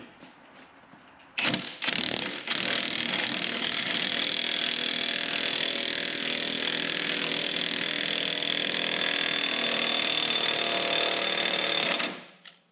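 A ball joint press forcing the lower ball joint out of a Chevy/GMC control arm, most likely driven by an air impact gun: a steady, loud mechanical buzzing and grinding runs for about ten seconds after a few short bursts, then stops.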